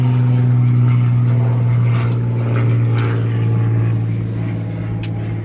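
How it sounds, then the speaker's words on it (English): A propeller airplane drones overhead, loud and steady with a low hum, slowly fading toward the end. "Sorry, airplane."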